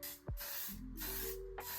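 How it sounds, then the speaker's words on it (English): A L'Oreal Paris 3-second setting mist bottle gives two quick, close hissing spray bursts, the first short and the second longer, in a quiet room. "It's a L'Oreal Paris 3-second setting mist. I'm just going to give this a quick squirt."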